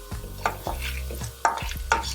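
Urad dal and chana dal crackle in hot oil while being stirred, a steady sizzle punctuated by several sharp scraping strokes of a spoon against the pan, close and fairly loud with no voices.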